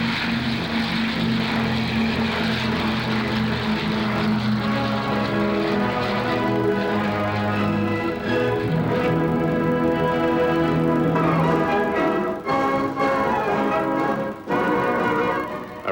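The propeller-driven Atlanta airliner taxis to the runway in 1952, its piston engines giving a loud, steady droning hum that rises slightly and stays close throughout.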